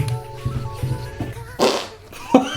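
A wet, squelchy armpit fart buff noise from a video game, heard as two short bursts over light background game sounds.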